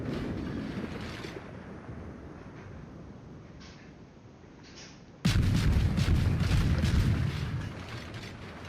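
Harugumo destroyer guns in World of Warships fire in a dense, rapid barrage that bursts in loudly midway, after a quieter stretch of rumbling sea and wind ambience.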